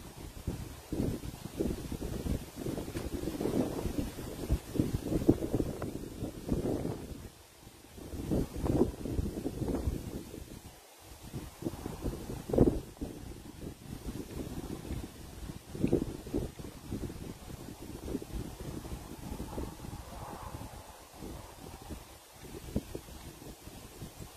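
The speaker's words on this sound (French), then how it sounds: "Tu as tellement de vent dehors ici là." Strong outdoor wind buffets the microphone in loud, uneven rumbling gusts that roar and ease throughout, with no voices heard.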